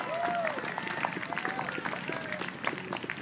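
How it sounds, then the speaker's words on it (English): A crowd at a Relay for Life luminary gathering claps for a short stretch, steady scattered applause at moderate distance. "Could I please have an applause for Milton Consiglio and his courage and his honor"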